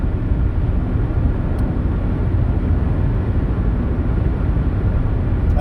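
Steady, loud road and engine drone inside an Acura RSX with a five-speed manual gearbox, cruising at a constant pace with an even low rumble and no talking.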